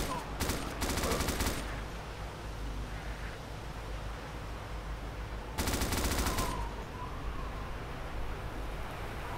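Automatic gunfire in the DayZ survival game on the Namalsk map, two loud sustained bursts roughly a second long each, separated by several seconds of low ambient noise.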